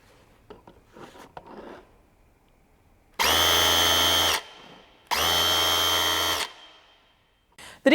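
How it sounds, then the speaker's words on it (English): DEWALT DCH253 SDS+ 18-volt rotary hammer chiselling in hammer-only mode: two loud, sustained bursts of rapid hammering about a second each, separated by a short pause, with faint handling noises before and a brief restart at the end. "Place your 18-volt battery into the tool and you're ready to start chiselling."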